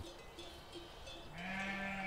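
Ewes raised fully outdoors give a couple of faint, distant bleats, then a steadier, louder bleat rises near the end over a soft open-air background.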